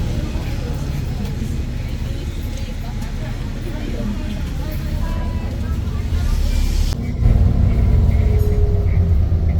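Riding on a bus, a low steady engine rumble and road noise fill the cabin, growing heavier near the end, with people talking over it.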